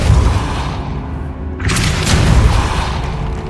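A Depulso spell cast in Hogwarts Legacy blasts apart stacked bones at an archway, giving a deep, booming burst with a sharp crackling blast partway through over a steady low rumble of game ambience.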